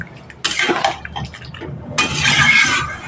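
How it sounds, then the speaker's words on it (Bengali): Water poured into a pan of shrimp and pointed gourd, a close splashing pour in two bursts with a short pause between, the second longer and brighter. "এখানে আমি পরিমাণ মতো একটু জল দিয়ে দিচ্ছি দিয়ে ঢাকা দিয়ে দেব"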